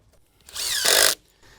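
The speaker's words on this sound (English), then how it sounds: "we're going face screw straight in each of the holes here" A power drill driving 1.5-inch screws into metal joist hangers on a wooden shed foundation: one short whirring burst that rises in pitch, then settles into a louder steady drive before stopping abruptly, close up with no talking.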